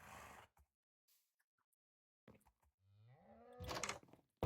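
A cow in a video game gives a single loud, drawn-out moo with a rising tone, heard near and alone after short bursts of other game sounds and a few seconds of near silence.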